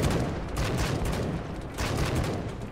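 A turret in the video game Wasteland 3 keeps up dense, rapid gunfire, a continuous rattling barrage that swells slightly halfway through.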